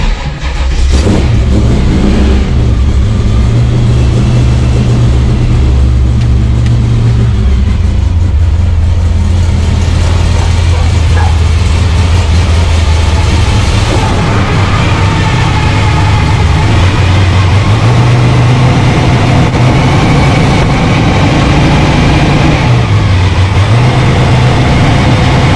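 A Pro ET drag race car fitted with a nitrous plate system fires up and revs loudly, engine pitch swooping up and down between rough, heavy idling, very close and dominating throughout, with no speech.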